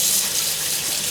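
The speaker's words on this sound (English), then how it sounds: "So just run super, super cold water over them to stop them from cooking" Cold tap water gushes steadily from a faucet over cooked boba pearls in a strainer, a close, bright, continuous hiss with no break.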